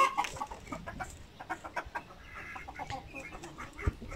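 Pet chickens kept in a handmade backyard coop in the UAE cluck in a series of soft, irregular bursts close by, with occasional scratching and faint background noise.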